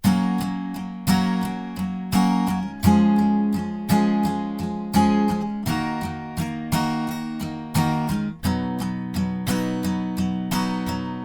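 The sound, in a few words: acoustic guitar chords strummed with capo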